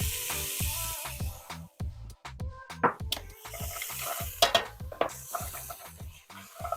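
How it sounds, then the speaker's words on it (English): Onion, celery and carrot sauté in a pan that has just seared beef cheeks, with a close, steady sizzle broken by a regular rhythm of spoon scrapes and clatter against the pan. "We want to saute these vegetables"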